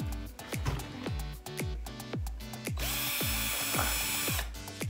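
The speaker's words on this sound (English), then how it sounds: "You're going to need to remove the bumper with two screws here." A power driver zips screws out of the bumper on a Traxxas UDR truck fitted with aluminum and stainless steel upgrade parts: a rapid series of short ratcheting bursts, close and fairly loud, followed by a longer continuous whir.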